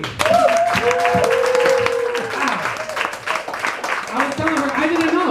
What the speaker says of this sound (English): another round of applause for Katie